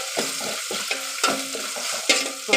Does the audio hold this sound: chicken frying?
yes